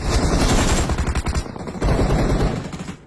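Loud, dense automatic gunfire from a video game fight, with rapid close bursts packed together across the whole stretch.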